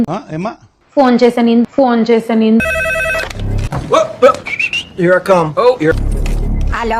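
A telephone rings during a call, its tone mixed in with continuous talking voices that carry on over and around it.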